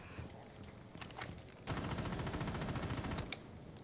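Sustained burst of gunfire aimed at a wall in Rainbow Six Siege, starting after a few scattered shots and running loud and dense for about a second and a half before cutting off, with faint scuffing around it.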